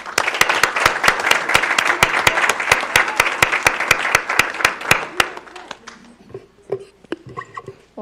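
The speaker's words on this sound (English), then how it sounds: "One more round of applause." Applause at a school board meeting: steady, rhythmic clapping from a small group for about five seconds, then tapering into scattered claps and faint room noise.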